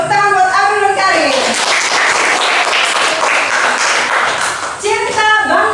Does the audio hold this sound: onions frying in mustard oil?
no